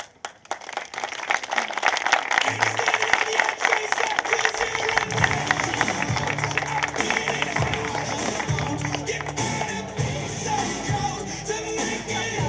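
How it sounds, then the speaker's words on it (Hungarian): An audience at a slam poetry open mic breaks into sustained applause: dense, fast clapping from a roomful of people that keeps up for over ten seconds, with scattered voices and shouts mixed in. "Tapsoljátok meg magatokat!"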